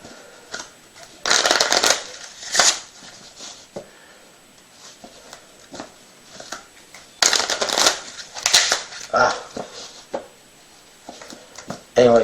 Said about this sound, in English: I'll shuffle the cards up.